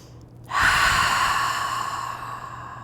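A deep cleansing breath during a gentle yoga session: a quiet moment, then a sudden strong exhale through the nose and mouth that trails off slowly, close and breathy, with no talking.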